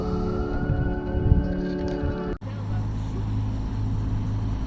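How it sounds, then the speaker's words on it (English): A sailboat motoring slowly under engine with its bottom fouled by seaweed, a steady low engine drone with a tonal hum, close by. The sound shifts after a brief dropout midway. "we're motoring very slowly because we think our bottom is covered in seaweed"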